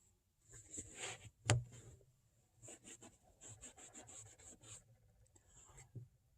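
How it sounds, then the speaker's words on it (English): Soft, quiet rubbing and brushing strokes as Blackrock Leather N Rich cream is worked into a leather boot, with one sharper scuff and a series of short, uneven strokes. "rubbing this is going to take off the excess product and lift dirt"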